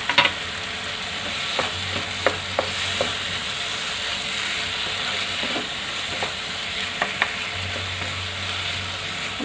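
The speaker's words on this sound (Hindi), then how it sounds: "साथ ही हम इसमें ऐड करेंगे ये बारीक कटी हुई शिमला मिर्च, और इन सबको भून लेंगे अच्छी तरह से।" Finely chopped capsicum sautéing in a pan for a vegetarian paneer keema, a constant sizzle broken by sharp spatula taps and scrapes, with no voices.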